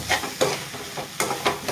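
Egg kothu parotta, a street-style hotel dish, being stirred in a pan, with a few distinct scraping strokes of the spatula over a soft background sizzle, close and moderately loud.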